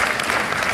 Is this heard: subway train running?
no